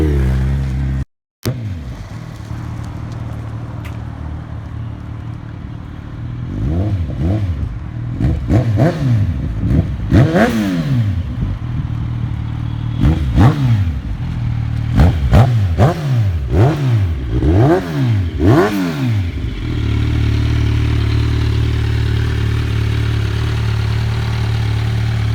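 A Kawasaki Z1000 motorcycle fitted with an Akrapovic full exhaust system idles close by, then is blipped through a series of sharp, rising and falling revs before settling back to a steady idle.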